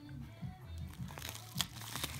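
A plastic shipping package of aquarium plant seeds from Singapore is torn open with quiet, close crinkling and crackling over a low background hum.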